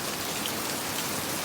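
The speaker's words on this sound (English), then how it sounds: "we haven't had proper rain for like a month or two, and all of a sudden it just starts coming down" Heavy rain pours down steadily in a dense, even hiss of countless drops, loud and unbroken with no voices.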